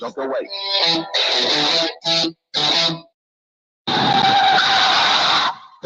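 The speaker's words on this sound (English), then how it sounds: "That's the sound of a big hit on you and your car or truck." A car skidding and crashing effect in a radio advertisement, choppy bursts of loud tire screeching with a short silence before a long harsh roar, mixed with a spoken voice.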